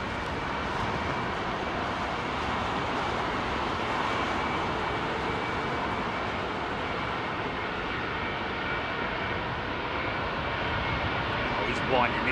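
Airliner engines spooling up for takeoff at windy Heathrow form a broad, steady roar that holds level for the whole stretch, with wind noise and people talking over it.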